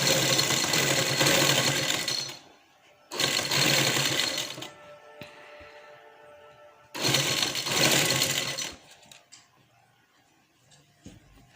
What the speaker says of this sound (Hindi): किनारे किनारे पे हम सिलाई लगाएंगे।